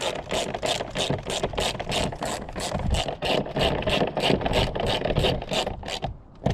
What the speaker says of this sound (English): let's get those last bolts in